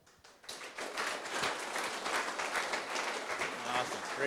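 Sustained audience applause at a Roblox creator show, a dense wash of clapping that rises quickly after a brief quiet start and holds steady at full volume throughout.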